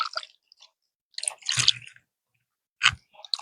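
Grated coconut is squeezed and washed by hand in water, giving a few close, wet squelching and dripping bursts separated by silence.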